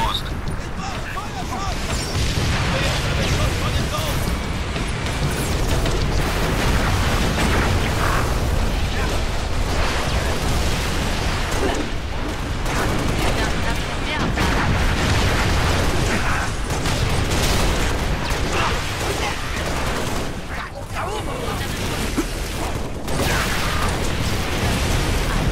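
Repeated booming blasts and bursts from Halo: Reach cannons firing high-pressure plasma grenades, loud and dense, with mechanical clanks and voices mixed underneath.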